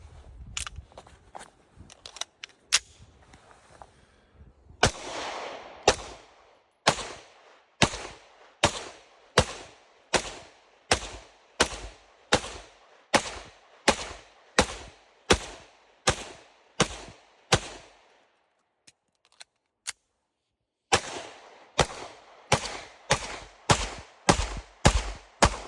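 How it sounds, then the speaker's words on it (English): A 2019 Staccato P pistol fires a long string of sharp, loud shots at a steady, moderate cadence, each crack ringing out briefly, with short pauses near the start and a longer gap before the shots resume. "We'll go ahead and get some more shots going."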